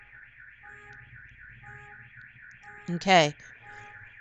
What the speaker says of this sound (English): I apologize for the car alarm